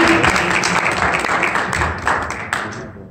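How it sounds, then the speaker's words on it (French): A conference audience applauds a speaker in Montreal with dense, sustained clapping from many hands that tapers slightly toward the end. "Est-ce qu'on peut l'applaudir"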